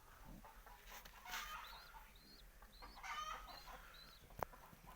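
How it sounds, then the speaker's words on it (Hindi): Chickens with two chicks kept at a house cluck softly in a noisy yard, with short high chirps and calls from nearby birds and a faint background murmur throughout. "वो इनके चिक्स हैं दो।"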